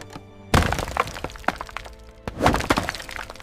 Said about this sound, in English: The box slipped and crashed heavily onto the hard floor.